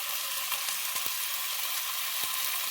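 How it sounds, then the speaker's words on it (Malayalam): Chicken frying in a pan with mint and coriander leaves just added, a steady bright sizzle throughout with a few soft clicks and taps of stirring, close and even with no talking. "ഇനി ഈ ചിക്കനിലേക്ക് നമുക്ക് ഇലകൾ ഇട്ട് കൊടുക്കുക."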